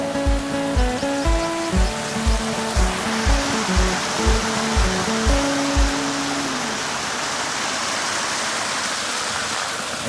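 A small mountain stream in Pahalgam, Kashmir, rushes down from above as a broad steady wash of flowing water, with a rhythmic low thumping and a tonal hum in the first six seconds.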